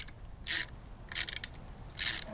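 A ratchet backs out screws on a window motor assembly of a 2001 Saturn SL2, three short bursts of rapid clicking separated by pauses, close and fairly crisp.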